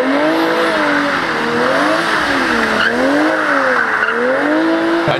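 Car spinning in rings on Michelin Pilot Sport 4 tyres, loud continuous tyre squeal and skid wavering up and down in pitch with each rotation over a revving engine, close and sustained.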